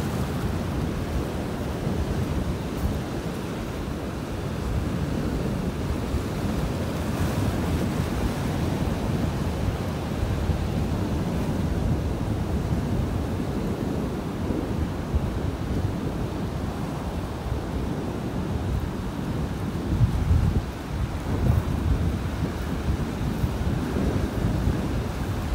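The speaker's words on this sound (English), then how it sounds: "You can hear that wind blowing." Wind blowing on a beach in North Naples, Florida, a constant low buffeting roar mixed with surf, steady and fairly loud for the whole stretch with no one talking.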